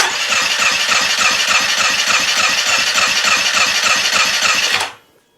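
A Polaris Sportsman 500 ATV engine cranks at full throttle during a compression test, the starter grinding in a fast steady rhythm, loud and close, before cutting off.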